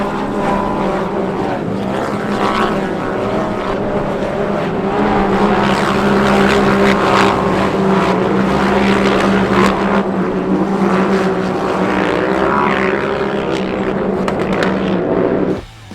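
Off-road racing vehicles at full throttle during a race, a loud, sustained engine roar with overlapping droning tones that swell and ease slightly, ending in a sudden drop near the close.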